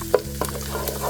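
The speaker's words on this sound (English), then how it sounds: "let's stir it for a little while" Bacon and rice frying in a pan as they are stirred, a soft, steady sizzle with a couple of brief scraping strokes near the start, close but fairly quiet, no voices.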